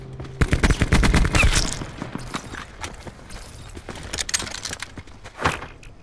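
A grenade blast in a fast-paced multiplayer shooter, heard as a loud burst of layered crashes and crackling impacts, followed by scattered gunfire and footstep-like clatter at lower level.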